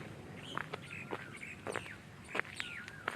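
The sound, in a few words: birds chirping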